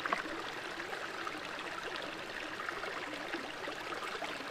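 Slow stream water gurgles faintly and steadily as a Sawyer water filter bag is held in it to fill, a soft, close trickle with no voices.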